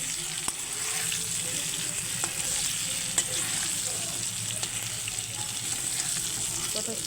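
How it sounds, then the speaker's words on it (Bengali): Diced potatoes with turmeric and salt sizzle steadily in hot oil in a home kitchen pan, a continuous soft crackle with occasional light clicks of stirring, fairly quiet and close. "এই যে হলুদ আর নুন দিয়ে এখন ভেজে নেব আলুগুলো"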